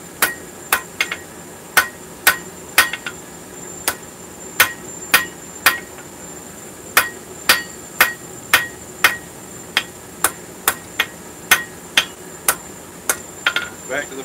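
Cross peen hammer forging hot steel on an anvil, a steady series of sharp ringing metallic strikes, roughly one per second with a few quick double taps, loud and close with no talk.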